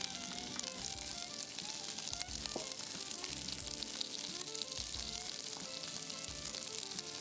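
Chicken wings fry on a Blackstone griddle with a soft, continuous sizzle, broken by scattered crackles and pops at a low, even level.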